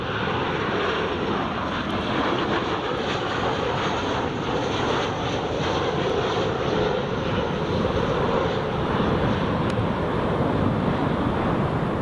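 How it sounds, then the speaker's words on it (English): A Jet2 airliner lands at Newcastle International Airport, a loud, steady broadband jet roar lasting throughout, mixed with outdoor wind buffeting the microphone. "There we go, Jet 2 is down on the ground"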